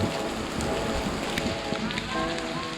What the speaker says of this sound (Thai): เราก็ต้องไปท่ามกลางสายฝนอันชุ่มฉ่ำเนื่องจากว่าวันที่เราไปนั้นเป็นวันที่พายุเข้าพอดี